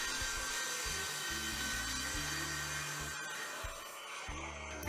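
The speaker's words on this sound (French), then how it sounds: "J'aurais dû monter un petit peu la lame, je suis feignant, parce que là elle peine." A table saw blade set too low labours through a wood batten being ripped for a Telecaster guitar neck, a continuous close grinding drone with a strained, uneven motor hum and no talk.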